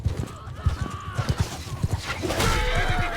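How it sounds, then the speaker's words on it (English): A very quick horse gallops in Mount and Blade Bannerlord, its close, rapid hoofbeats thudding in a driving rhythm that swells louder toward the end. "Salagat is a very quick horse"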